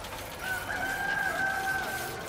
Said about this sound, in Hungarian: valahol a távolban felkukorékol egy kakas